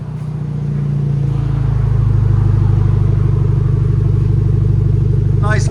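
A 2023 Genesis G70 2.0L turbo with its resonator and muffler deleted idles close by. The exhaust gives a loud, steady, low rumble with an even pulse, and a brief higher noise shows up at the very end.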